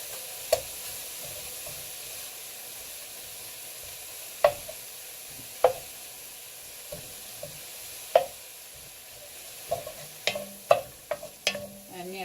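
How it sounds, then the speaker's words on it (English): Leeks tossed in oil over low heat in a pan: a soft, steady sizzle broken by sharp, scattered clicks and knocks of utensil on pan, which come faster toward the end. Close and fairly quiet, with no voices. "I'm tossing my leeks around in the oil"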